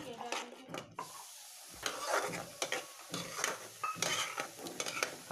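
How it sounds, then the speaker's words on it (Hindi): Onions frying in a pan for dahi chicken curry are stirred with a utensil, giving repeated scraping and clinking strokes over a steady sizzle, close and fairly loud throughout with no talking. "प्याज हमारी भुज रही है, हम इसको बीच बीच में चलाते रहेंगे"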